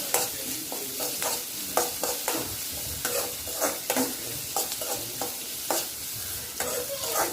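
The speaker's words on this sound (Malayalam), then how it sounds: "നമുക്ക് അരിഞ്ഞു വച്ചിരിക്കുന്ന പച്ചമുളക് അതിലേക്ക് ഇടാം" Green chillies fry with onions in a pan for a mushroom dish, a spoon scraping through them in quick, repeated strokes over a steady, close sizzle.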